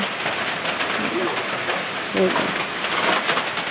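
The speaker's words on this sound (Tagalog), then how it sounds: "di rin tayo magtatagal kasi umuulan na rin" Rain falls outdoors as a steady, even hiss, fairly close and full, with a faint brief bird-like call partway through.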